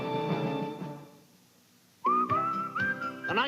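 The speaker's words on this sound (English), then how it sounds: "The 1985 Toyota Workforce is going to have you whistling while you work." Someone whistles a bright, cheerful melody in an 1985 Toyota Workforce cargo van advertisement, following a short passage of lower musical tones and a brief near-silent pause, the whistled notes clear and close.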